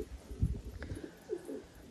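An old male pigeon and others coo in soft, low bursts, with a couple of rounded calls standing out against a steady close-up murmur of the flock.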